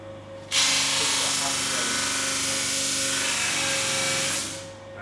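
A sander mounted on a jig spins up abruptly into a loud, steady, hissing whir, runs evenly for about four seconds, then winds down.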